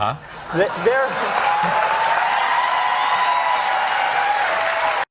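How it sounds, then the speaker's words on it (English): An audience breaks into sustained clapping and cheering, a dense steady wash of applause with whoops that holds at full level for several seconds after a brief vocal opening. "Why are they always clapping?"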